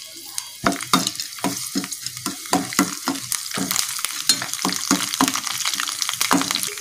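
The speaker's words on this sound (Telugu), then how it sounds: "తర్వాత తెల్లగడ్డలు వేసుకొని ఫ్రై చేసుకుందాం." Garlic frying in hot oil in a pan, with a steady sizzle broken by regular scraping stirs of a spoon, close and fairly loud, without speech.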